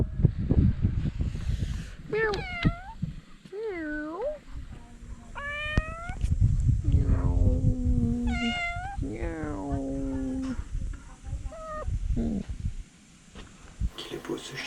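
A cat meows repeatedly in a series of rising and falling cries spread across the clip, close and clear over steady background rustle and wind noise.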